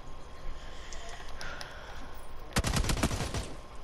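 Automatic gunfire in PUBG: a fast, loud burst of rapid shots near the end, after quieter ambient noise and a few faint distant pops, with light talk around it.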